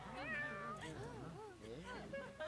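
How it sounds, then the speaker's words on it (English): In the Fire Emblem Three Houses video game, a small cat meows repeatedly in quick, clear, rising and falling calls, close and fairly quiet. "Little cat here."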